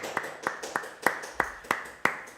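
A few scattered claps from a small, thinning room audience at a Eurovision jury-vote discussion, about eight sharp, evenly spaced hand claps, close and fairly quiet, with no talking over them.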